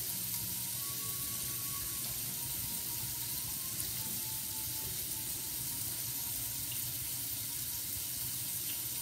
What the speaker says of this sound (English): me wash my hand a little bit.